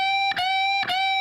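Sustained electric guitar notes from a riff, each held long rather than clipped short, with two brief pick attacks between ringing tones, played alone and fairly loud.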